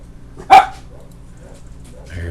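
A single sharp bark from a farm dog rings out once across an open field, fairly close and brief, with a faint low rumble continuing underneath afterward.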